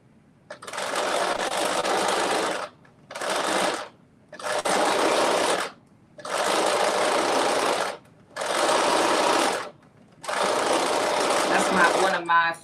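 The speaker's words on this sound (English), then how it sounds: "I was just over here just base stitching everything together." Sewing machine base stitching fabric in six loud close bursts, each running a second or two with brief pauses between.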